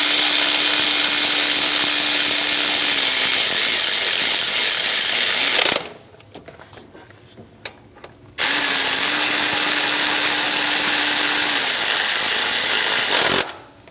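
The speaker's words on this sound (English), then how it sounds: "Snug the bolts down." A power tool, likely an impact wrench, runs the tensioner bolts down on a 2003-2025 Chevrolet Express 2500 van: two long loud continuous whirring bursts separated by a short quiet pause with faint clicks.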